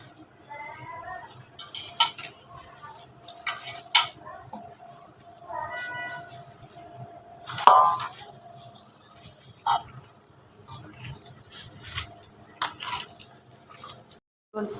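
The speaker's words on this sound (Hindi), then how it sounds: "आपने ना इसको ऐसे गूंद लेना जैसे कि हम आटे को गूंदते हैं ना" Beef kofta mince being kneaded with spices by hand, a long run of wet squishing and squelching pats at close range, uneven in rhythm, with occasional faint clinks and a voice talking now and then.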